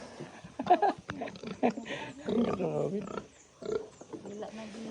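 Hungry pig on a small farm in Cayabo, Tanay, giving several short grunts and squeals in irregular bursts, close by, mixed with someone talking over and between them.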